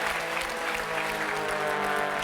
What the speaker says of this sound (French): je voudrais quand même qu'on applaudisse fort Dana et Marina pour être venues avec nous